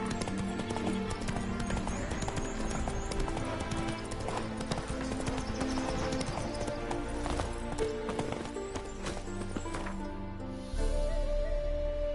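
A horse gallops in The Witcher 3 video game, with rhythmic clip-clop hoofbeats running continuously beneath a dense layer of game music and ambience.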